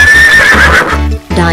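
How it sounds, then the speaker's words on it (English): A loud, close horse whinny, a shrill wavering neigh lasting about a second, then a brief pause and a short snort-like follow-up. "Horse."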